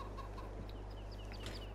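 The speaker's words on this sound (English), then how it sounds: "there's 330 chickens in here too" Chickens in a barn on a farm in a farming video game on PS5 cluck softly, with faint overlapping bird calls over a steady low hum, no talk.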